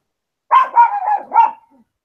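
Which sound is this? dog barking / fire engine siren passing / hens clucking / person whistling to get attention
dog barking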